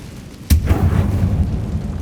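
Confringo blast spell from Hogwarts Legacy on PS5: one sudden loud explosive burst, then a rumbling roar that keeps going to the end, with no voices.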